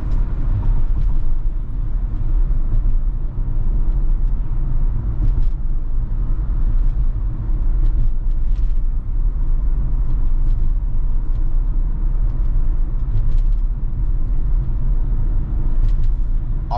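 A Tesla running FSD 12.5.2 drives itself along a busy Seattle freeway, with a steady, loud low road rumble and engine-and-tire drone continuing throughout and no speech.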